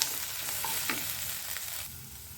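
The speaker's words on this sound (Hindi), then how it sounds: "मैं इसको गोल्डन ब्राउन होने तक प्याज को फ्राई करूँगी" Onions sizzle and crackle steadily in a hot pan as they fry to golden brown, with occasional stirring clicks and scrapes, close up.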